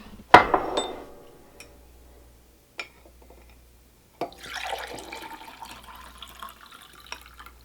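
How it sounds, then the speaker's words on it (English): Soaking water is poured off rehydrated dried cherries in a small kitchen, beginning with a sharp clink of glass, then a short faint tap, then a steady trickling pour that runs for a few seconds. "So I'm just going to pour that water off and we're going to add the cherries."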